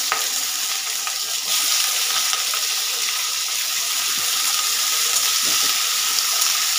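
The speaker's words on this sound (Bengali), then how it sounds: "5টা কাঁচা লঙ্কা ফোড়ন দিয়ে দিচ্ছি। সঙ্গে একটু আলুগুলো ভেজে নিচ্ছি।" Green chillies and potatoes fry in hot oil in a pan with a loud, continuous crackling sizzle. Occasional soft scrapes of stirring break through the hiss.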